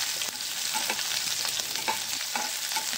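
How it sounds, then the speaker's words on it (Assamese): Onions frying in oil in a wok, a steady close sizzle with occasional scraping and stirring clicks, no voices. "পিঁয়াজখিনি অকণমান সময় ভালদৰে ভাজি ল'ম।"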